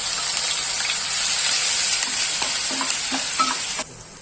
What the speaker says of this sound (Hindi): अभी इसको हल्का ब्राउन होने तक इसको भूनना है।